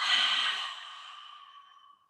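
A single long, airy exhale during a guided meditation, starting strong and close then slowly fading to silence over about two seconds.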